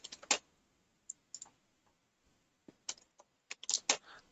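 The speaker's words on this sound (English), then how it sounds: "So let me type the password." A computer keyboard is tapped in short, sparse bursts of quiet key clicks while a password is typed, with gaps between keystrokes and no voices.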